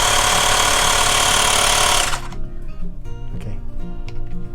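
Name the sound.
Xiaomi Mijia portable digital air pump running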